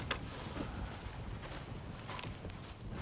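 Hooves clip-clop at a steady walking pace over a low outdoor rumble, with no talking, from a horse in the video game Red Dead Redemption.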